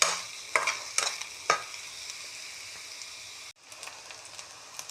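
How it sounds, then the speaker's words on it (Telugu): Eggplant (brinjal) frying in a pan, a steady close sizzle with several sharp stirring scrapes early on, a brief cut, then the frying resumes, no voices. "వంకాయ వేగుతూ ఉందండి"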